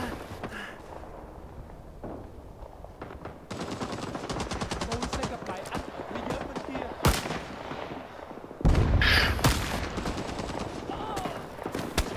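Rapid M1 Garand rifle shots and surrounding battlefield gunfire in Rising Storm 2, crisp loud cracks in bursts with distant fire and a heavy blast near the end, players talking over it.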